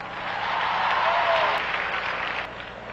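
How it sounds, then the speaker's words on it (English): A church audience applauds during a sermon on marriage, a dense wash of clapping that swells and then eases over a few seconds, fairly close, with a faint voice underneath. "Clap loud."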